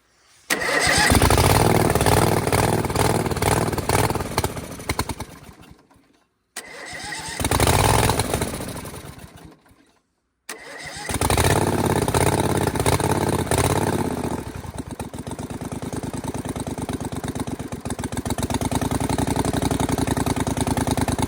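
A V-twin engine fitted to a zero-turn mower cranks and fires, cuts out, restarts twice, then settles into a steady, loud, close-up run off choke with a throbbing mid-pitched idle, no voices.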